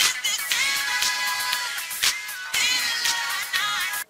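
A mobile phone ringtone plays twice, a bright, repeated electronic melody with a short gap between the two bursts, close and clear with no talking.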